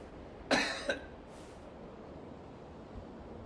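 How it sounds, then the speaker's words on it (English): A single sharp cough in Hitman 2, given during a doctor's examination, followed by a brief second burst, fairly close, with a faint hiss after it over a low, steady background hum. "Cough, please."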